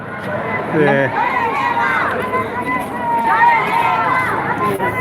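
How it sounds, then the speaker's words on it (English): A large crowd of protesters marches through a Colombo street on 9 July, a steady babble of many voices and footsteps filling the scene at close range without pause. "All these people are marching to Golfways Green"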